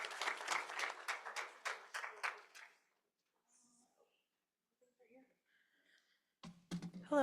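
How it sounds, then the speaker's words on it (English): Applause from the audience at a school poetry event, a burst of clapping that fades out after about three seconds, then near silence and a voice starting at the end. "Let's give her and the students a round of applause"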